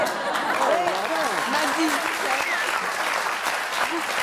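A television studio audience claps steadily throughout, with voices rising over the applause.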